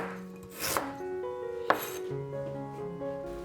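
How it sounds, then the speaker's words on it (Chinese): A knife slices fresh ginger on a cutting board, with a couple of crisp cuts and light clinks against the board, close and clear, then quieter scraping and handling of the pieces. "姜切片"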